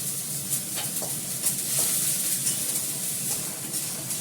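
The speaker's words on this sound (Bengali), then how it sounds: "এটাকে ভালো করে লাল করে ভাজবো।" Chopped onions frying in white oil in a pan give a steady, soft sizzle with faint crackles and occasional stirring scrapes, close up and with no talk.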